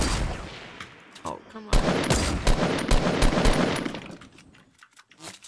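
Rapid bursts of automatic gunfire crackle through a Fortnite Battle Royale match, loud sharp volleys repeating over several seconds and fading toward the end, with a player's brief exclamation over the shooting.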